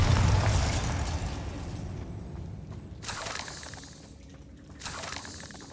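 Bombarda spell explosions in Hogwarts Legacy, a couple of sharp blasts with crackling, rattling debris that decay between bursts, fairly close with no talk over them.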